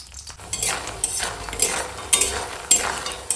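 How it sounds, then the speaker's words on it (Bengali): Lentil dumplings (bori) fry in oil with a low, continuous sizzle, broken by repeated spatula scrapes and clinks against the pan roughly every half second, close by and with no voices. "বড়িটা এখন ভাজা হয়ে গেছে"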